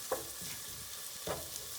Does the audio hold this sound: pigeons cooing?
no